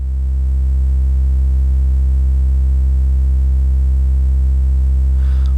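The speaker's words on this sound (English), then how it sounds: "Both oscillators are set to sine waves and are tuned nearly identically." Two kNoB technology ηCarinae Eurorack VCOs set to sine waves and tuned nearly identically, with version 1 driving through-zero FM into version 2. A loud, steady electronic tone holds unchanged throughout, with no other sounds.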